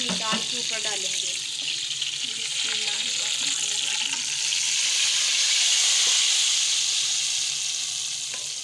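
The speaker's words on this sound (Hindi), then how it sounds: "अब हम इसको अपनी दाल के ऊपर डालेंगे।" Hot fried mustard seeds and cumin in oil are poured onto cooked dal, giving a loud, steady sizzle and hiss that swells toward the end, with a brief clatter at the start.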